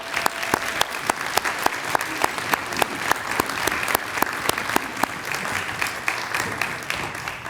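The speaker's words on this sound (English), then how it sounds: "give them another round of applause" Audience applause fills a room at a panel presentation and tribute event, a steady, dense wash of many hands clapping at close range, sustained without a break.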